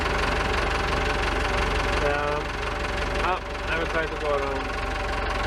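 A tractor engine runs steadily at a low, knocking idle throughout, with someone speaking briefly over it.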